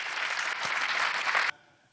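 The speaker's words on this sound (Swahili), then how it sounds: "makofi tafadhali tukimkaribisha" Audience applause welcoming a speaker at a parliamentary committee gathering, loud sustained clapping from many people that cuts off abruptly near the end, leaving faint room tone.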